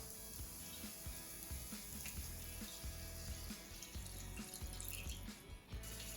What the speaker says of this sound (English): Add in around half a cup of water.